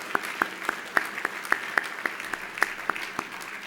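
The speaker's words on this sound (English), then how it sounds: "Please join me in a round of applause for them." Applause for title sponsors at a dinner event, with steady distinct claps from a few nearby hands standing out over softer clapping from the room, evenly paced and moderately loud.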